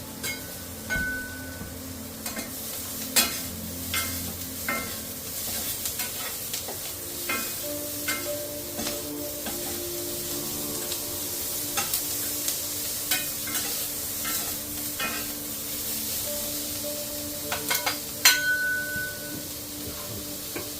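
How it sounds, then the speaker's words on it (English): Sweet peppers fry in butter in a pan with a steady sizzle and crackle, broken by occasional scraping stirs and clicks of a utensil, close up and with no talking. "We got our sweet peppers all pan fried up in butter."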